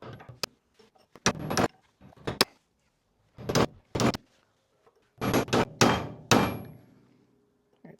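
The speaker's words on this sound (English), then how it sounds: "So cold chisel, heavy hammer," A heavy hammer drives a cold chisel against a Jaguar XK8 lower ball joint, a series of sharp metallic strikes, some single and some in quick clusters of two or three, close and loud.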